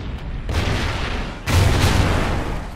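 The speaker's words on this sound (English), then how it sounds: "Way too many explosions going." Two loud, broad booming blasts from the video game Call of Duty: Ghosts, one near the start and a heavier one midway, each followed by a sustained rumbling roar.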